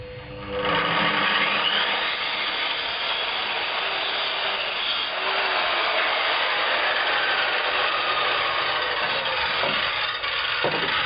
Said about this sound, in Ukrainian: Спробуємо як ріже пила.